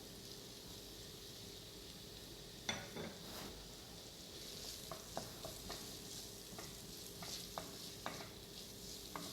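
Onion fries in a wok with leftover chicken and spices, a soft continuous sizzle broken by scattered light clicks and scrapes of stirring, fairly quiet and with no talk.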